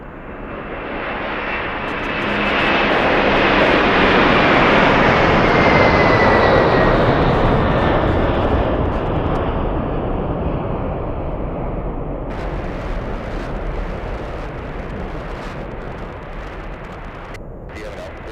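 A departing airliner at Anchorage Ted Stevens International Airport in freezing conditions roars loudly, building to a broad peak and then a steady sustained rumble as it climbs away, alone without talk.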